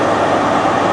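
Class 43 HST power car 43016 pulling a Bristol Temple Meads service out of Reading station: a loud, close, steady rumbling roar of train noise.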